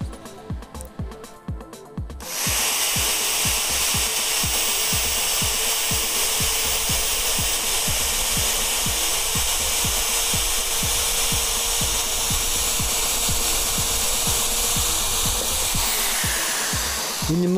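Power drill or rotary tool boring out and enlarging a hole in the plastic headlight housing of a 2016 Renault Trafic, a steady loud grinding whine running continuously after a couple of seconds of lighter scraping.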